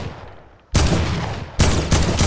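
Video game gunfire: sudden loud bursts of rapid shots erupt after a quiet moment, cutting off and then returning twice in quick succession, close and dominant.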